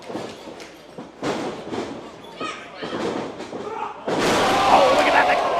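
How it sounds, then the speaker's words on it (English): During an independent wrestling match, a wrestler is driven into the mat with a crucifix bomb, giving heavy thuds and slams under excited commentary, followed by a loud surge of crowd noise. "Oh, look at that, the crucifix bomb. The crucifix got him."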